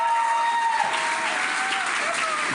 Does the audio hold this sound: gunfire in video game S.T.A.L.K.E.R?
no